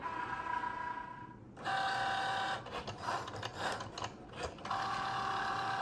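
A Cricut cutting machine at work on a card: a steady motor whine with whirring carriage movements and clicking mechanical shifts, close and alone.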